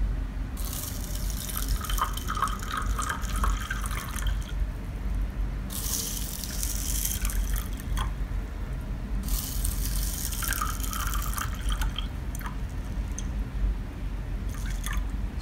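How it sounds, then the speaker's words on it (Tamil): Water poured into containers of rice, a steady close splashing and trickling stream with brighter bursts of pouring and dripping throughout, no talking. "இதில் தண்ணியை விட்டுறோம்"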